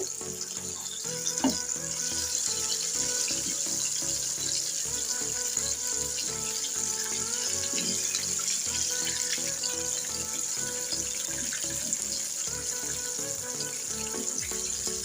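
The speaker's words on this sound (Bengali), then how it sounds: "আমি এভাবে উল্টিয়ে পাল্টিয়ে ভেজে নেব।" Chicken wings fry in oil in a pan over medium heat, giving a steady, bright, continuous sizzle with faint scraping and clinking as the pieces are turned.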